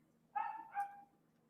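A neighbor's dog barks twice in quick succession, two short tonal woofs heard from a moderate distance against a quiet background.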